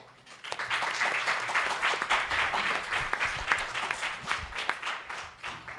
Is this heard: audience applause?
yes